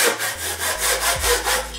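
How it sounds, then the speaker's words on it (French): A hand saw cuts through wood while candle holders are made. Close, regular back-and-forth strokes rasp in a steady rhythm, about three strokes per second, with no one talking. "Si tu veux scier droit, il faut toujours que tu aies l'impression que tu vois le bois qui est derrière"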